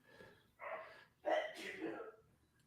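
A person sneezes faintly in the distance, a breathy intake followed by a burst, with muffled voices or noise around it.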